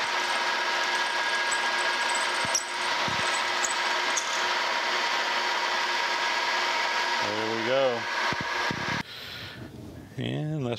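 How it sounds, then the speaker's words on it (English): Continuous whine of a power drill boring a hole through a metal steam locomotive brake valve part, steady and close, with someone briefly talking near the end. "So we are ready now to drill that hole out."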